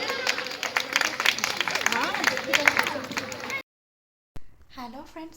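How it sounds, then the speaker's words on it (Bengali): Dense clapping and applause from an audience at a show, with crowd voices mixed in. It cuts off abruptly, and after a short silence a voice speaks. "আর একটু জোরে হাততালি।"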